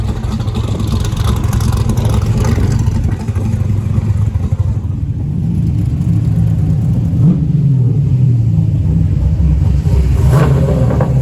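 A 1963 Dipco drag truck with a turbo big block engine rumbles loudly and steadily at close range, with a deep continuous engine drone and brief revs, and no voices.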